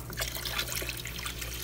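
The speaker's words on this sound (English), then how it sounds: "why is he just pouring this dirty water into a tank" Dirty water carrying snails is poured into a tank, a steady close trickle and splash of liquid lasting under two seconds with no talk.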